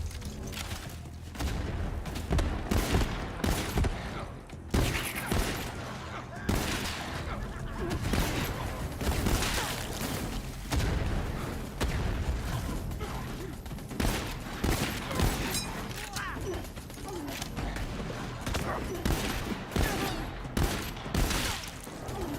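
Assault rifle gunfire in the Borderlands 3 shooter, with dense bursts of rapid shots, booms and impacts repeating loudly throughout, mixed with game effects and some voice.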